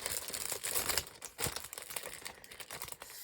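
A pack of 8 by 8 inch craft papers and cards being handled, with close, busy crinkling and rustling of paper sheets and brief tearing-like rasps.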